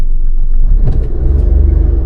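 A manual car climbs a steep hill after a smooth hill start, its engine giving a low, close rumble that swells slightly as it pulls forward, with no talking over it.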